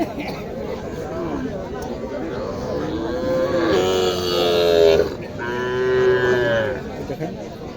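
A bull calf at a cattle market moos twice in long, loud, drawn-out calls close by, over a background of people talking and general market chatter.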